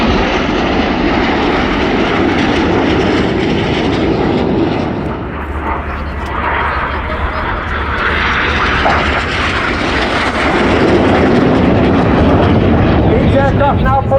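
Red Arrows jets fly a display at the RIAT airshow, with a loud, continuous roar of jet engines swelling and fading as the aircraft pass, and a commentator speaking over the noise.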